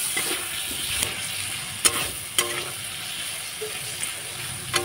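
Fried potatoes go into a simmering curry in a pan, giving a steady close sizzle broken by a few sharp stirring clinks and scrapes, with no one talking.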